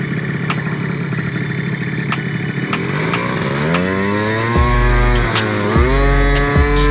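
An Aero 50 scooter with a modified CVT pulley buzzes at idle, then revs up and rides off along the road, its high, raspy two-stroke whine climbing and dropping loudly through several throttle blips.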